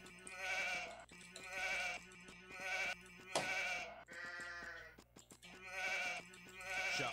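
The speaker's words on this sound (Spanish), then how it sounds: "Tienen estas las dos ovejas que necesitamos." Sheep in Age of Empires bleat over and over, about seven evenly spaced, wavering calls at a steady moderate level.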